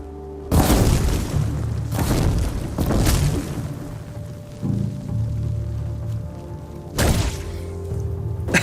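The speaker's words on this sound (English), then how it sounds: "I didn't think my trap was gonna explode immediately" A trap detonates in Horizon Zero Dawn, a series of heavy booming blasts with crackling debris, several bursts spaced a few seconds apart, loud and close over game ambience.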